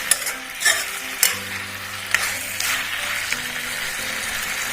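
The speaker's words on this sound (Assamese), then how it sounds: "আলুখিনি সিজিবৰ কাৰণে অলপমান পানী দি এতিয়া মই অকণমান লৰাই দি গোটেইখিনি মই ভালদৰে লৰাই দিছোঁ" Potatoes are stirred in a pan with a little water, a spatula scraping and knocking several times against the metal over a low, steady simmering sizzle, close and fairly loud.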